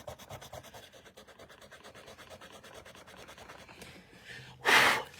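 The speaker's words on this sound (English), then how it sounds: "I'm going to kind of clean it up a little bit with a sand eraser" A sand eraser rubbing on a journal page makes a quiet, steady series of rapid scratchy strokes, then a brief louder burst near the end.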